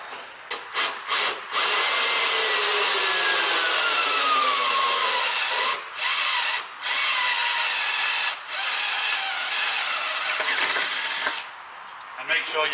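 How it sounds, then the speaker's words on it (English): A cordless drill with a 7.5mm bit bores a hole near a car's wheel area, whining loudly in long sustained runs broken by short stops and a few quick trigger blips. "I'm now drilling where the wheel is"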